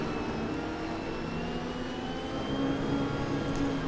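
Onboard engine of an Audi R8 GT3 race car at Paul Ricard in a racing game, a steady high whining drone with rising tonal lines as it pulls through the gears, fairly loud and continuous.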